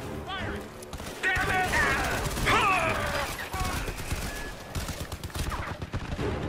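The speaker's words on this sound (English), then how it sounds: "That is definitely a turret." Rapid turret gunfire in the video game Crysis 3, a loud sustained burst of shots layered with mechanical clatter and other game effects, with talk alongside.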